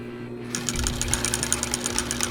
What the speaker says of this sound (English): stitching across that top stitch line, across the little top here